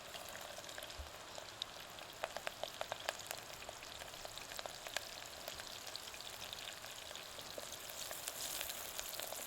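Garlic and green chilli pieces sizzle in hot oil in a village kitchen, giving a steady, fairly faint crackle with scattered sharp pops throughout and no voices.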